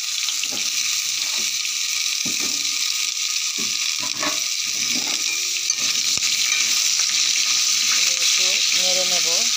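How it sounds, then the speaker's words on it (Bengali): Potatoes sizzle steadily in hot oil in a pan, a dense continuous frying hiss with occasional stirring clinks and a voice speaking briefly over it near the end. "তেলে দিয়ে দিলাম আলুগুলো।"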